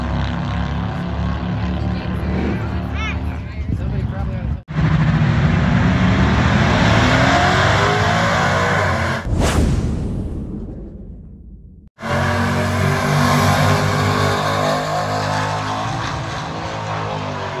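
Harley-Davidson motorcycles roar past on a drag strip during racing runs, a loud sustained engine blare with a sharp whooshing pass-by in the middle and abrupt cuts between runs.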